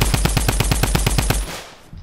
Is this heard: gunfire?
yes